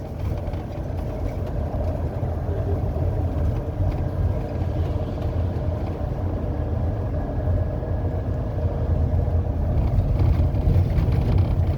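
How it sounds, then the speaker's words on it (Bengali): Steady low engine drone and road rumble inside a Sohag Scania double-decker bus cabin, a continuous even hum with no talk. "এটি হচ্ছে সোহাগের কেবিন নয়েজ"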